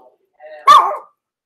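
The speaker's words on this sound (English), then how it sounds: "so the dogs are going to start barking." A dog barks once as a delivery driver arrives at a home, a short loud yelp with a softer lead-in, standing alone against otherwise quiet surroundings.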